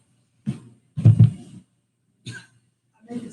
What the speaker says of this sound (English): Don't be coughing